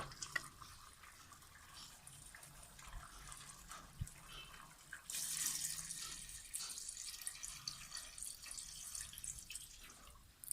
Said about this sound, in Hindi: अब हम इसमें तकरीबन 1 लीटर के करीब पानी डालूंगी।